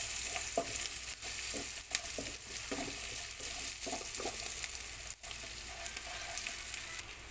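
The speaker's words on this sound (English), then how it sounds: "And then we just saute until it gets translucent." Onion sautéing in a pan for beef afritada, a continuous close sizzle with repeated short scraping stirs at an irregular rhythm, and no talking.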